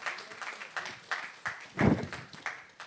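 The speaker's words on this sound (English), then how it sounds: "Please, can we clap our hands for the men who are..." Scattered hand claps from a small audience at a women's oil and gas industry event, faint and uneven, a few claps at a time rather than full applause.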